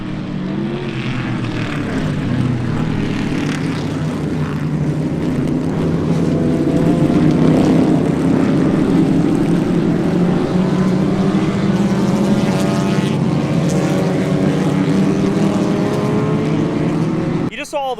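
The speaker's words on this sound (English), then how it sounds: "Saw all the cars go by." Vintage racing cars roar past continuously at Sebring, a dense, loud engine drone swelling and fading as cars go by, with no clear break between passes.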